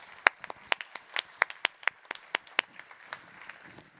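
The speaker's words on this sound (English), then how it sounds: "I'd like you to join me in giving them a round of applause for their work." Sparse applause for the innovation competition finalists, a small audience giving a dozen or so distinct, irregular claps that thin out toward the end.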